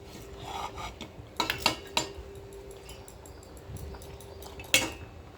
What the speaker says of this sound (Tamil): இதை நல்லா இப்படி கிண்டி விட்டுருவோம்